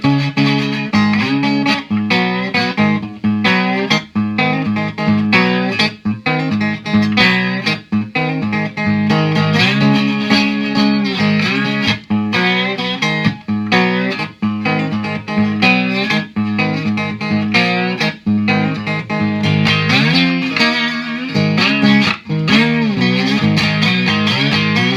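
A resonator guitar played continuously with a slide through a fairly clean amp, gliding notes and a thick, slightly distorted tone, loud and alone with no talking.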